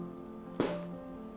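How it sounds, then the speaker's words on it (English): A single quick, dry brush-and-strike of a dancer's foot ball against the studio floor during a ballet frappé, one short scuff heard over a faint sustained piano chord. "we strike the floor with the ball of the foot to point the toes"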